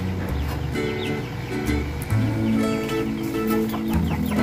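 A Chinese Silkie chicken clucks close up in a backyard pen, giving a run of short, loud, repeated clucks and squawks with no talking over them.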